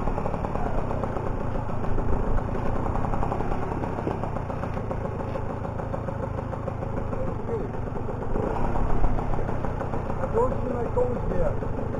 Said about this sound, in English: Driving away from a parking lot.